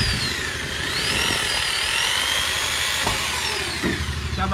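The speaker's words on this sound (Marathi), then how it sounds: "14 लाखाच्या गाडीला ड्रिल करताना" A power drill bores into the body of a car to fit a rear spoiler, giving a steady high-pitched whine that holds for several seconds with a few small changes in pitch.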